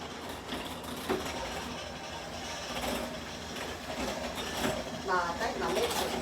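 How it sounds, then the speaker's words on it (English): An electric mixer beats a filling of cream cheese, powdered sugar, vanilla and heavy cream, a steady mechanical whir with rattling, straining texture that runs throughout at moderate loudness. "I think my mixer's about to play out on me"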